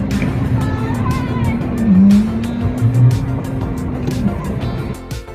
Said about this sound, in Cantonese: 呢個冰上碰碰車好好玩